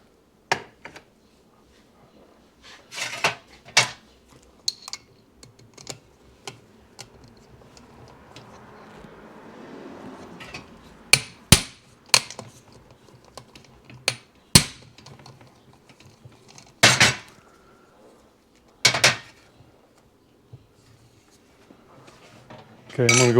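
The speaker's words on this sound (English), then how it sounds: "I'm going to go ahead and get the clutch cover screws out" Clutch cover screws are removed from a Yamaha AT2 125 enduro engine, producing scattered sharp metallic clinks and taps of tools and loose screws, close and irregular over a quiet background.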